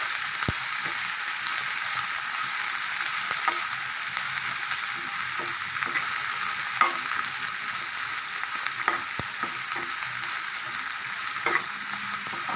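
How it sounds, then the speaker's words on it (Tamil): Onions sautéing in a pan for a beetroot stir-fry, a steady moderate sizzle running throughout with occasional faint taps and scrapes of a spoon. "வெங்காயம் வந்து ஒரு 2 மினிட்ஸ் நல்லா வதங்கணுங்க"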